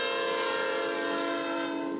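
Loud, sustained horn blast from a freight grain train led by a Norfolk Southern locomotive with a BNSF engine trailing, the chord held steadily for the whole moment.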